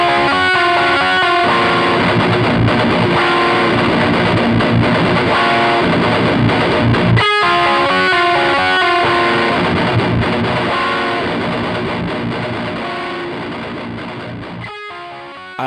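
A heavily distorted electric guitar through a Laney Ironheart amp simulator plays chugging riffs and sustained chords, loud and continuous, ringing out and fading at the end.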